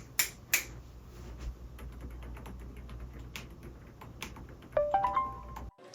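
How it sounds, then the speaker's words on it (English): A Redragon Otiim Pro silent keyboard being typed on, soft scattered key presses with a few sharper clicks and taps, close and quiet, ending in a brief thump. "as you can hear by that, that's a silent keyboard"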